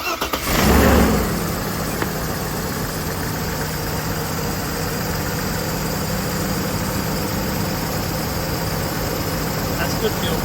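A Mercedes W124 engine cranks briefly and catches, settling into a steady, loud idle that runs on without a break; a voice is heard near the start.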